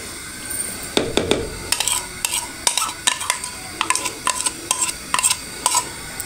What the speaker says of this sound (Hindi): मिक्स करते हैं चने।